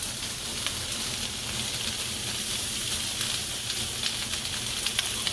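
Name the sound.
garlic frying in a pan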